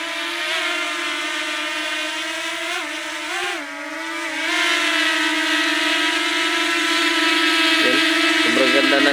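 Propellers of a DJI Mini 4K drone spinning, a loud, steady, close buzzing whine that wavers briefly in pitch and then holds level, with no talk.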